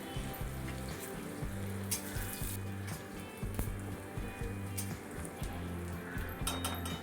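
Chopped onion and curry leaves fry in hot oil, giving a steady, soft sizzle throughout, with faint tonal hum in the background.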